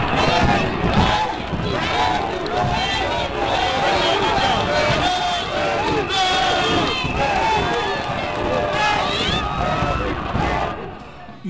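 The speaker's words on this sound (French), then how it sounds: "Une foule immense est présente ici pour ovationner le chef de l'État" A huge stadium crowd roars and cheers for the head of state at the 28 September stadium in Dixinn on 2 October 2018, a dense, continuous wall of shouting voices that holds steady throughout.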